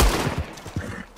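Muffled gunfire in Red Dead Redemption 2 rattles off in a short burst of several rapid shots at moderate distance, a few dull thuds spread across a second with no talk.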